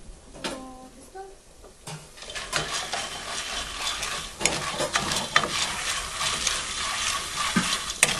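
Corn kernels toasting in a pan for a colada de choclo crackle and pop in a dense, steady patter that grows louder and busier after a brief voice and a few clinks at the start.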